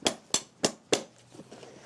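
A farrier drives nails into a horse's hoof while shoeing, four sharp, ringing hammer blows evenly spaced at close range, followed by softer, fainter taps.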